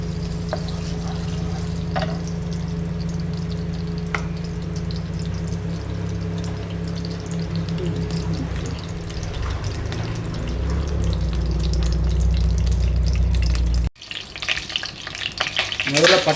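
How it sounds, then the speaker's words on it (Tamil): Ghee and hot oil in a pot for chicken dum biryani give a steady low sizzle and bubbling that builds louder, then a sharp cut to a harsher, crackling fry near the end. "முதல்ல சூடானேன்னு ஆயிலில் நெய்யெல்லாம் வச்சுருந்தோம்ல அதை ஊற்றிடுவோம்."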